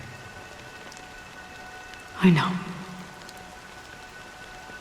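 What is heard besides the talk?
rain falling in the video game Honkai Star Rail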